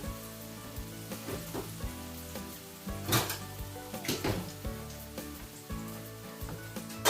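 Potatoes frying in hot grease inside a Ninja Foodi, a close crackling sizzle with occasional clinks and scrapes of utensils against the pot.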